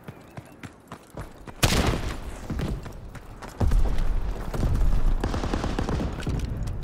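Dense gunfire from a Call of Duty WW2 War Mode battle, with rapid overlapping rifle and machine-gun bursts that swell into a loud, continuous barrage after a brief lighter opening.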